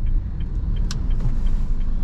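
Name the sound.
car engine while braking and downshifting to second gear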